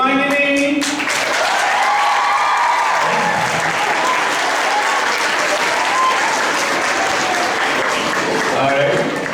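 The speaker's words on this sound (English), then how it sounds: "I'm a little jealous about Shubhangini because you hadn't get this kind of applause here." A crowd at a college HR conclave claps loudly and steadily for several seconds, with a few scattered voices and cheers mixed into the dense applause.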